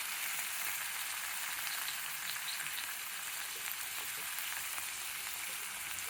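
Onions, curry leaves and green chillies frying in a pan for a bitter gourd masala, a steady bright sizzle with faint crackles, close and continuous, no talking.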